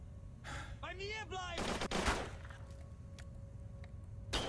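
Gunfire in the 2006 war shooter Call of Duty 3 on PS3, a few sharp shots and a short burst over quiet game ambience, with a whistling tonal effect early on and no talk.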